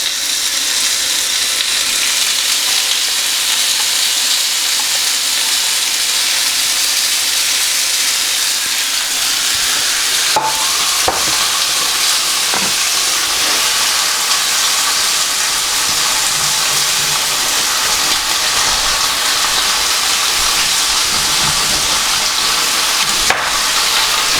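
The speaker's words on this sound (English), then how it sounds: "our chicken breast, and we're just going to sear this on either side for about 4 minutes" Chicken breast searing in a hot pan, a dense continuous hiss and sizzle holding steady and loud throughout, with a couple of brief clicks partway through and no talking.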